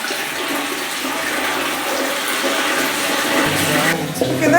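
A home toilet flushes in a house in Nairobi that was recently repaired by a plumber, a steady rush of water filling the clip with a louder surge near the end, with some voice faintly under it.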